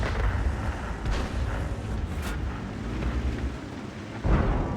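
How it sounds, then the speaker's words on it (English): Heavy booming rumble of artillery fire in the World of Tanks PC game, with a broad sustained roar and a sharper blast near the end, loud and dense with no talking. "This is artillery."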